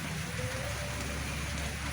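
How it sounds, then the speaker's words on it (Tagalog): Heavy rain pours down outside a house, a dense, unbroken hiss of drops hitting surfaces that stays loud and steady throughout, with no voices. "lakas talaga ng ulan guys"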